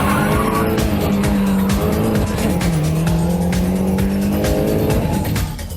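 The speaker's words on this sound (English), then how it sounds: "when suddenly he spins out of control and drops back in the field" Mini Cooper race car spinning out on a racing circuit, tyres squealing in long wavering skids over a loud, steady engine roar that continues throughout.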